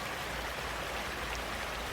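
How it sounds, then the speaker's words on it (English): Soft, constant rushing of a small creek heard from nearby on a rainforest hiking trail in Oregon, a steady even hiss with no voices. "And I just have to cross this creek right here"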